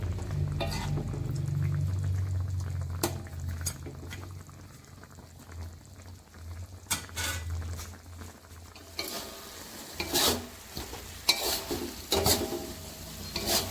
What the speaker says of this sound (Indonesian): lalu masukkan wortel yang tadi sudah dipotong-potong ya. Aduk-aduk.